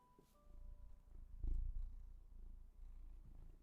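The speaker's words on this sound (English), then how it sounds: "he's purring." A pet cat purring close to the microphone, a soft, low, steady rumble that swells briefly and then continues quietly.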